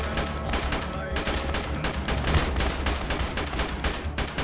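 Dense gunfire in ARMA keeps crackling, with rapid bursts and machine-gun fire rattling almost without a break, loud and close.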